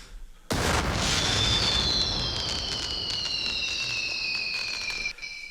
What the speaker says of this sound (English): it literally sounds like fireworks and explosions